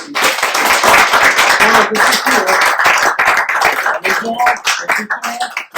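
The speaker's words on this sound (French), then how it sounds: "S'il vous plaît, applaudissez-le encore, s'il vous plaît." Loud, close applause from an audience at a hip-hop conference, dense clapping that thins toward the end as voices start to come through.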